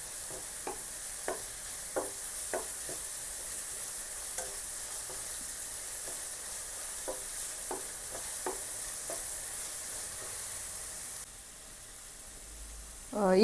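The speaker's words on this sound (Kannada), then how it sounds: "ಈಗ ಐ ಫ್ಲೇಮಲ್ಲಿ ಇಟ್ಟು ಈರುಳ್ಳಿ ಕೂಡ ಸ್ವಲ್ಪ ಕಲರ್ ಚೇಂಜ್ ಆಗೋವರೆಗೂ ನಾವು ಫ್ರೈ ಮಾಡೋಣ" Onions fry over a high flame for Schezwan fried rice, a steady hissing sizzle with scattered spatula clicks and stirring taps, faint voice in the background, ending in a louder scrape.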